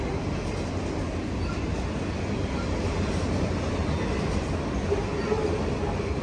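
Steady, broad rumble of a Union Pacific auto rack freight train rolling past nearby at the Oakland Coliseum Amtrak station, continuous and loud throughout with no talking.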